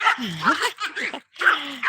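A dog barks and whines in short yelping bursts, close and fairly loud, with a brief pause between groups of barks.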